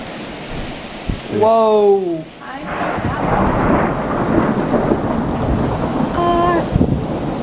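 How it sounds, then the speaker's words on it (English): Thunderstorm rolling in suddenly, with loud rumbling thunder and steady heavy rain throughout, a second thunder crack near the end; a person exclaims briefly over the storm. "there's a huge lightning storm"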